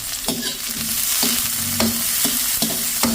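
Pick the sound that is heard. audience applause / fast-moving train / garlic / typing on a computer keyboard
garlic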